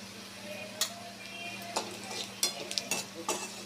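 Chilli powder and turmeric roast in a pan with a soft low sizzle, punctuated by a few scattered clinks and scrapes of a spoon against the metal, close but quiet, no talking.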